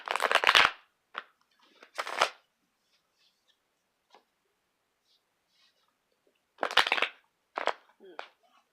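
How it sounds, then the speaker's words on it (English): Tarot cards are shuffled in a few short, crisp bursts of riffling, separated by quiet gaps with faint soft handling sounds. The cards are close and clear. "Shuffling not coming out right."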